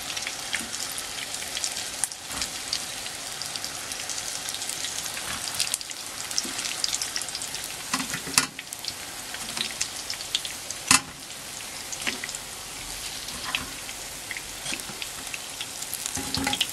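Lumpiang shanghai spring rolls deep frying in oil, a dense crackling sizzle with scattered sharp pops and occasional utensil knocks, close and continuous with no voices.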